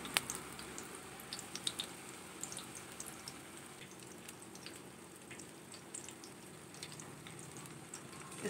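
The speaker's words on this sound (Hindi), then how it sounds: "तेल में छोड़ते जाइए।" Gram-flour-coated chillies frying in hot oil over a low flame, a soft steady sizzle with scattered faint crackles and pops, quiet and without talk.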